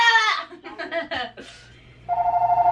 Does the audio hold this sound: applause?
no